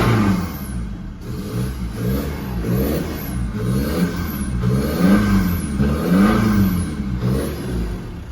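Ford Ranger engine idling roughly with a misfire, a close, uneven rhythmic chugging that surges and dips roughly every second, with a faint high squeal repeating over it.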